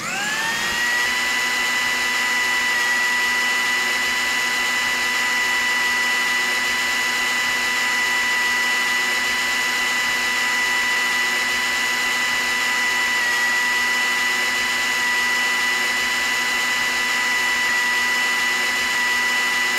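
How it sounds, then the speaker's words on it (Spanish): An electric kitchen blender runs at a steady high-pitched whine, loud and close, continuous for about twenty seconds with no talking. "Deshazte de la licuadora."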